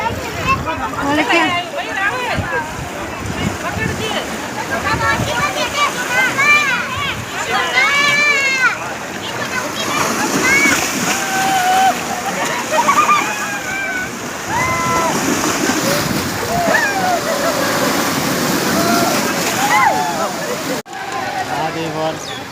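People bathe and splash in the Gomti river at Dwarka, with continuous water sloshing and splashing close by under constant lively chatter and shouts from a crowd.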